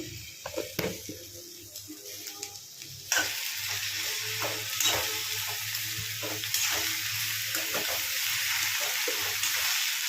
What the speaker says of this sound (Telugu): కొంచెం అల్లం వెల్లుల్లి పేస్ట్ వేసుకుందాము.